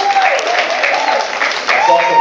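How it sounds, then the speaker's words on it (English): Comedy club audience clapping on cue at a stand-up show in New York, a steady dense patter of many hands that holds through the whole stretch, mixed with voices and cheers from the room. "clap your hands"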